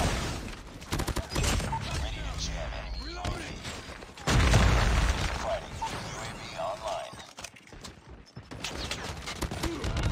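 QQ9 submachine gun hipfire in the shooter COD Mobile, rapid bursts of shots mixed with impacts and a loud blast around four seconds, set in a busy match with voices over it.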